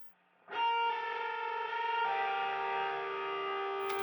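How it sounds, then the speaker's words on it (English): A distant-sounding, effect-processed electric guitar in a prog metal cover of a song from Frozen 2 swells in from near silence and holds a sustained, echoing chord with a shimmering, siren-like tone for several seconds. "I interpreted it with a distant guitar"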